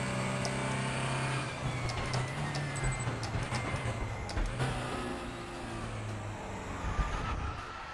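GT3 race car in the RaceRoom (R3E) racing game, engine droning loud and steady throughout with shifting harmonic tones as it accelerates and brakes, dense broadband road and tyre noise, no talking.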